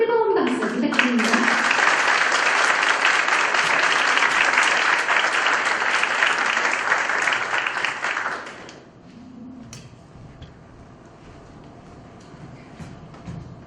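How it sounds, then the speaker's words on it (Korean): Loud, dense applause from an audience at a seminar marking the 70th anniversary of the Korean War, sustained for about eight seconds before cutting off into quiet room sound with a voice beginning to speak. "여러분 뜨거운 박수 부탁드립니다"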